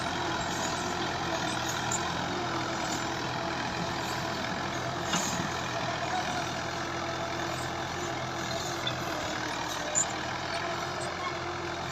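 A Fiat 85 HP tractor straining as it pulls a cotton planter across unprepared ground, a steady, heavy engine drone holding at one level, with a few faint knocks.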